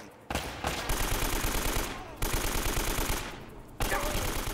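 Automatic gunfire in the video game Uncharted, set aboard a German U-boat, crackles in three dense bursts separated by brief pauses, loud and close with an echoing metallic edge.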